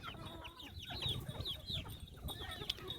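Several chickens cluck and squawk close by in quick, irregular bursts, with a slight rustle of movement underneath.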